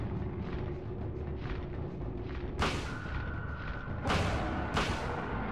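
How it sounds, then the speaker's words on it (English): Shotgun blasts in the Silent Hill video game, three sharp booming shots in uneven succession over a low rumbling ambient drone. "It sounds like a shotgun."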